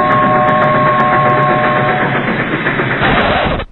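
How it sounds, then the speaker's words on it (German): A train rumbles along in a video game, a dense, loud, continuous mechanical roar with faint clicking over a low steady hum and a sustained tonal whine, fading out at the end. "Ich muss den Zug mal eben ausmachen, sonst versteht man mich ja nicht."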